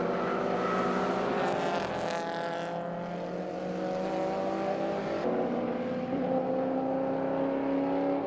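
A saloon race car running hard on a circuit during a sporting car club event, its engine note droning steadily and shifting pitch midway, with other track noise blending in at moderate distance.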